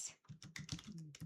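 Keys tapped on a computer keyboard while entering a short line of text in Photoshop, a rapid run of about six close, crisp clicks with no speech.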